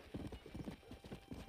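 Galloping horse hooves in the Red Dead Redemption game, a fast, steady clip-clop rhythm running close and loud throughout, with a faint whinny mixed in.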